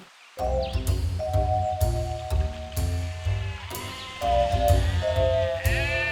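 Cartoon goat bleating repeatedly in a farm story, several drawn-out nasal bleats close and loud, one after another over a rhythmic background tune.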